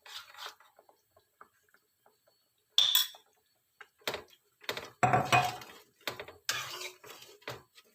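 Bangus fish curry with chili oil being stirred in a pot, a spoon scraping and clinking against the metal in scattered bursts with quiet gaps between, close and moderately loud, no talking.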